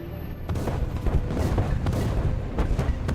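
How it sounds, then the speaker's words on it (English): Artillery fire in a video game rumbles in a dense stretch of low booms and sharp cracks, loud and continuous, with several distinct blasts standing out over the constant battle din. "Oh, artillery."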